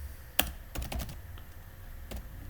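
Typing on a computer keyboard while editing a web page in Angular, giving a few sharp key clicks in an uneven rhythm at close range with no voices.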